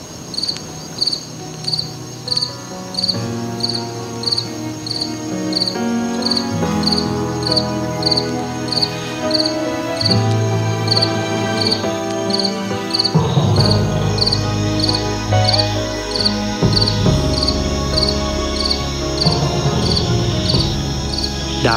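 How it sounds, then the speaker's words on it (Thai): Crickets chirp at night in a steady, evenly spaced pulse that runs the whole time, clear and prominent over soft, sustained music. "เสียงจิ้งหรีดพอจังเลยนะคะ"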